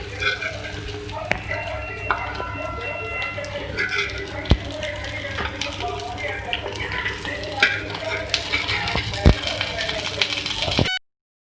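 Beef tawa kababs fry on a hot griddle with a steady, close sizzle, small spattering pops and occasional clicks of a utensil, while a voice talks over the cooking.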